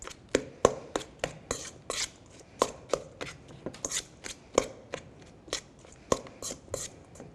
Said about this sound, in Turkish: Daha sonra krem peynirimi şöyle güzelce ezelim.